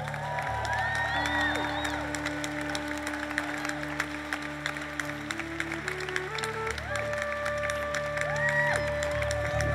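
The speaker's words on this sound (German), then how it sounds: "Lass uns dem Herrn einen Applaus geben" Applause from a church congregation during a worship service, a steady patter of clapping mixed with sustained music, with a few faint cheers.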